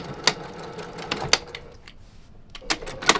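Sewing machine basting stitches through fabric secured with clips, heard as a few short, close mechanical stitching bursts separated by quiet pauses.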